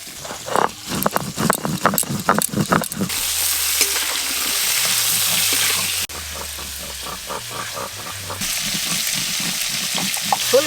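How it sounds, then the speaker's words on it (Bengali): Cauliflower frying in oil for a winter-vegetable khichuri, a steady close sizzle with stirring clatter, preceded by a stretch of rapid spatula tapping and scraping against the pan. "ওই তেলেই ফুলকপি ভেজে নেব।"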